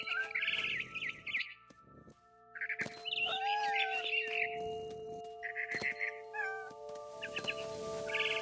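A cat stalking a frightened bird up a big tree gives several drawn-out meows and caterwauls, clear and close, mixed with bright chirping tones and steady sustained musical notes.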